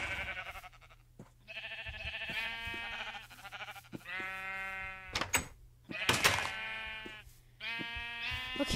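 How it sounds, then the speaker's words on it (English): Blocky video-game sheep bleat in a string of drawn-out, wavering calls, several in a row with short gaps, over a faint steady game hum, during a survival game session. "let's shear some sheep and breed them"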